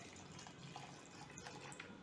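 Water pours into thick, high-quality phenyl (phenol cleaner) concentrate being mixed for a cleaning product, a faint, steady trickling wash with no talk over it.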